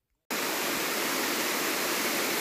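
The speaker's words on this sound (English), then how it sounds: "I'm up here at the top of the waterfall." Loud, steady roar of a waterfall at Cloudland Canyon in northwest Georgia, heard from the top of the falls, starting abruptly and continuing as an unbroken dense rush with no voices.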